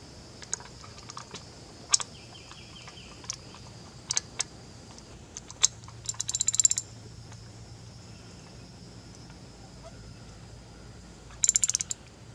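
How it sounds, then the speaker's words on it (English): Ratchet wrench with a loose 5/8 socket turning bolts on a Yamaha F70 outboard engine, heard as sparse, faint clicks and short bursts of rapid ratcheting amid quiet background. "the 5/8 socket's a little loose on it, so just make sure you're nice and square."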